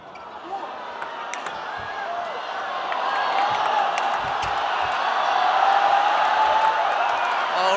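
A crowd at a 2019 ITTF Grand Finals men's singles quarterfinal table tennis match between two players builds into a rising roar of cheering in an indoor arena, with a commentator talking over it.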